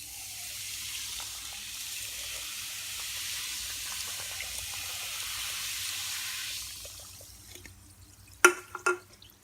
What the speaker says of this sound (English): I'm going to pour this entire can of Schweppes ginger ale over the pork.